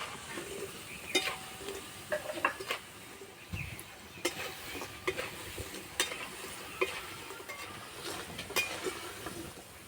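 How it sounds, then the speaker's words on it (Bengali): Raw peanut pakoras frying in hot oil, with a soft steady sizzle broken by repeated sharp clinks and scrapes of a utensil stirring in the pan, close and fairly quiet. "হালকা লাল লাল করে ভেজে নেব।"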